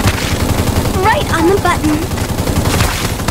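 Rapid gunfire in the mecha combat video game Super Mecha Champions crackles continuously and loudly, with a voice speaking briefly over the bursts.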